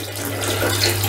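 An Aquael Ultramax canister filter outlet pushes out a steady, close rushing stream of water, like a running tap, with an even hum underneath and no break for about a second.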